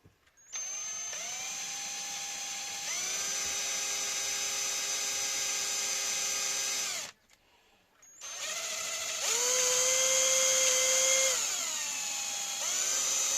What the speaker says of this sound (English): I'm going to try and do a drill hole through there